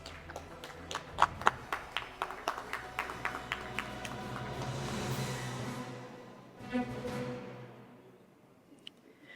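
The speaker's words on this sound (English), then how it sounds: "Let's give them a huge round of applause, please" An audience applauds award winners at a management association event in India, starting as sparse, distinct claps that swell into a fuller, steady round of applause before tapering off.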